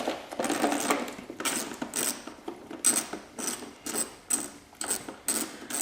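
Two 8mm bolts coming off the rear fender of a Yamaha YZ250F motocross bike: a ratchet wrench clicks in rapid repeated bursts, close up and steady throughout with no talking.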